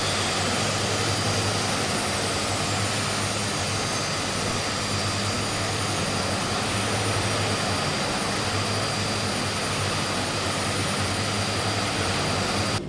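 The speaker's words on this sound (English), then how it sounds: "Now let's start the right engine." The right engine of an Aerosoft Twin Otter starts up in Microsoft Flight Simulator. A steady, loud turbine roar carries a high whine from start to finish, with no talking.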